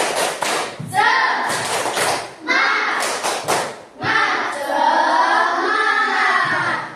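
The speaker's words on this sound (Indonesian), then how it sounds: "Sekarang kita tepuk semangat terlebih dahulu. Tepuk semangat." A school class claps an Indonesian spirit clap in a patterned rhythm, bursts of quick claps separated by short pauses, with children's voices chanting along.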